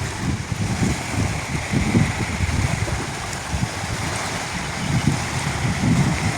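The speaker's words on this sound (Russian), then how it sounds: "Волны-то огромные, конечно, да." Large storm waves wash against a lake island shore under strong gusting wind, a continuous rough roar with rhythmic surges of surf and wind buffeting the microphone.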